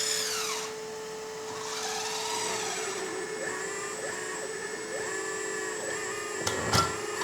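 The hydraulic pump of a LESU 1/14 RC hydraulic excavator whines steadily close up, its pitch rising and falling in repeated swells as the load changes, with a short clatter near the end.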